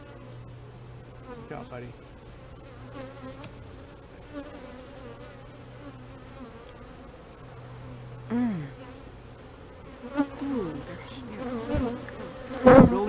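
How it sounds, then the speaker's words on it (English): Honeybees drone steadily around an open hive during an inspection, a close, continuous buzz with individual bees swelling louder as they pass near, while someone speaks briefly over it. "These are a bunch of baby bees."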